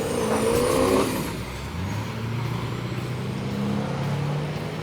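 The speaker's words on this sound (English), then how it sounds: "Both trucks fighting for traction on the racetrack." Ford and Chevrolet diesel trucks drag racing heads-up on a wet track, engines droning and rising in pitch as they fight for traction, a loud burst early on settling into a steady, sustained roar.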